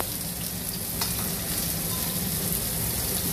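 Chili powder tipped into hot oil in a pan, cooking cheese corn Maggi noodles: a steady, loud, close frying sizzle that hisses evenly throughout with no talk.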